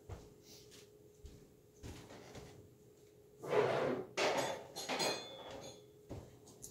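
A drawer slides open with a rattling scrape, followed by the clatter of items shifting inside, close by in a quiet room.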